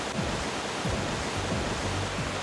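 Beaver Brook Falls in Keene, New Hampshire, a steady broadband rush of falling water filling the scene, close and constant, with no voices.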